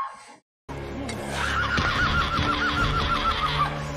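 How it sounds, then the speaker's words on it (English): A goat screaming close by, a loud wavering bleat that trembles on for a couple of seconds after a brief dropout. "It's a goat scream."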